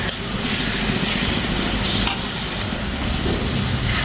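Onion frying and being stirred in a pan with a little salt, a loud steady sizzle with scraping stir strokes running throughout, close and without talk.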